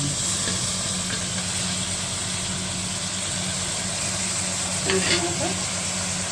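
Mutton tossed into a pan of well-fried onions for a Telugu cucumber mutton curry, with a steady broad sizzle and frying hiss beneath occasional stirring scrapes, close and moderately loud, no talk.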